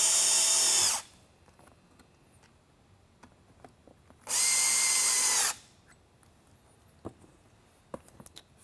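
Two short bursts of a power driver's whirring motor tightening screws on the face of a Whelen Pioneer SlimLine worklight, close and loud, with quiet clicks and handling noise between them.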